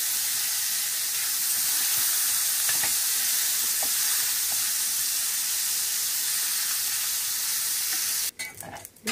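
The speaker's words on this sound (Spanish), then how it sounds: "No le ponemos nada de aceite porque el tocino va a soltar toda la grasa." Bacon frying in a dry pan with no oil, a steady loud close sizzle that runs throughout, with a brief clatter near the end.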